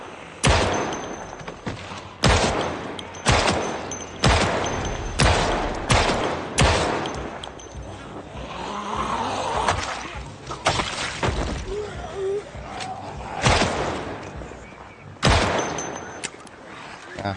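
M9 pistol with tritium and laser sights firing in the Project Zomboid game, a dozen sharp, loud, close shots spaced irregularly a second or two apart, with someone talking at times between them.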